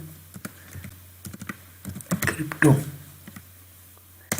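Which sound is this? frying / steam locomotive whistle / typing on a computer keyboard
typing on a computer keyboard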